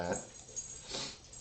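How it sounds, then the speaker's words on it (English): A dog whimpers indoors in a few short, soft whines and yips, quiet and close, with no talking. "don't mind the dog."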